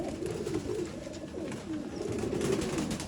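Pigeons cooing at a pigeon seller's shop in Bangalore, a close chorus of overlapping low, throaty coos rolling on continuously, with faint background noise and no clear talk.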